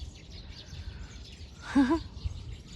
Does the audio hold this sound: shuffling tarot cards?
no